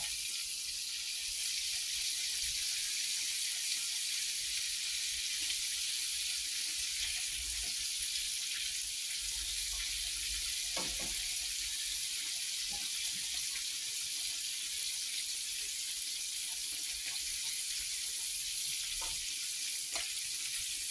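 Ribs fry in a pan with a steady, dense, close sizzle that holds even throughout, plus a few faint clicks and no talking.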